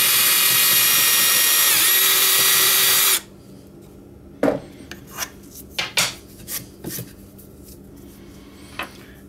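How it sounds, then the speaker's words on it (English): A drill bores a small pilot hole into an oak scrap, giving a loud, steady grinding whir for about three seconds before stopping abruptly, followed by scattered light clicks and taps. "We'll drill a small pilot hole here."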